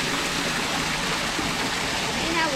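Steady rushing water flowing over rocks on a gray spring day with rain, a continuous broadband wash heard close.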